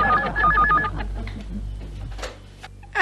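A telephone rings with a warbling electronic tone in a few quick bursts, loud at the start and then fading under room noise, followed by faint clicks.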